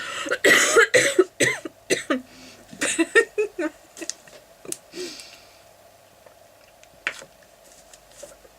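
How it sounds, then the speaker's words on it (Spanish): A fit of several sharp coughs close by, followed by a throat clear and scattered small sounds, then quiet. "voy a tener que toser"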